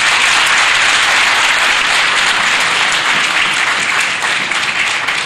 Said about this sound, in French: qu'il faudra applaudir